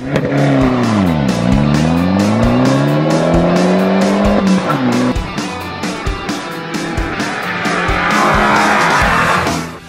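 A sports car engine revs loudly, its pitch dipping and climbing again, then settles into a rough, throaty rumble.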